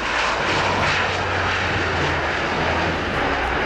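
An Air Baltic airliner lands at Gardermoen with a loud, steady roar of jet engines that fills the whole stretch without a break.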